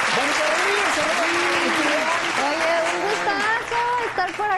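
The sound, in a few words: audience applause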